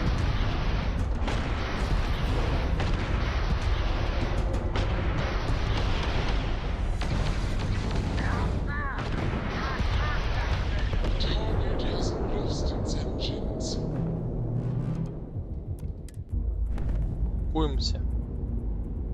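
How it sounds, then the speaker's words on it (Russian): Ship guns are blasted with cannon fire during space combat in the video game Starfield, producing loud, continuous rumbling booms and explosions that ease off briefly near the end before a few final blasts. "А теперь сносим его пушки."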